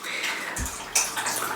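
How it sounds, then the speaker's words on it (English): A dog laps water, a brief run of wet splashy slurps and drips close to the microphone, with no speech. "that's my dog drinking water if you wonder."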